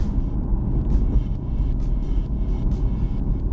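2022 Aston Martin Vantage F1 Edition driving over a bumpy road, heard from inside as a deep, steady engine and road rumble with faint thumps and rustles from the suspension over the surface.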